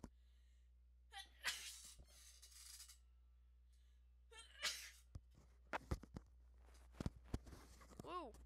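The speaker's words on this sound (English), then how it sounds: "Oh, gosh, I'm gonna sneeze." One person sneezes loudly and close to the microphone, followed by sniffs, shuffling and small handling noises indoors, with a faint background hum.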